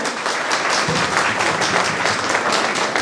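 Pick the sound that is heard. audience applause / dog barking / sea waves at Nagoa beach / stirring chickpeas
audience applause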